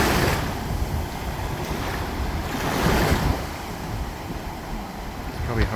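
Surf crashes close by on a Hawaii shoreline during a cruise excursion, a steady loud wash of breaking waves with a fuller surge near the middle, wind buffeting the microphone throughout.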